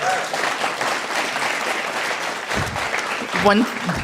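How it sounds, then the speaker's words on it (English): An audience at a guide dog graduation ceremony applauds in a steady, sustained clatter of clapping, and a voice briefly rises near the end. "So I want to give them a big round of applause as well."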